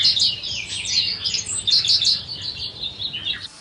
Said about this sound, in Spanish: Las aves canoras generalmente ofrecen sonoros y armoniosos gorjeos.